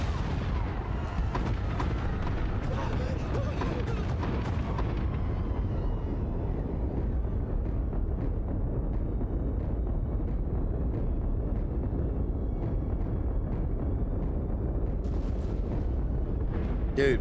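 Repeated explosions and blasts in the Star Wars: The Old Republic game, with a cluster of sharp booms early, then a steady rumbling roar, and a few more bursts near the end; loud and continuous, with faint talking underneath.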